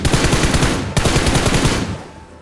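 Rapid bursts of automatic gunfire in PUBG Mobile rattle loudly and close, two long sustained volleys with a brief break between them, trailing off at the end.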